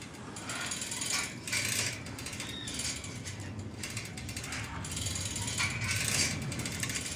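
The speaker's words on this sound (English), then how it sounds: "With the locking ratchet loose, notice the mass going up and down" Ratchet mechanism working loose while a mass rides up and down, giving repeated bursts of dense mechanical clicking and rattling in rhythmic waves, close and steady, with no voices.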